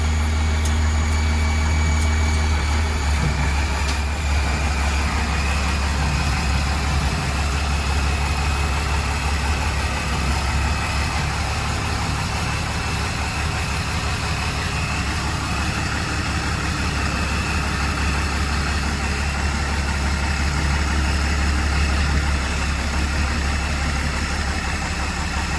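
A 1940 truck with a 12 valve Cummins diesel idling nearby, a steady low rumble and mechanical clatter holding an even note throughout.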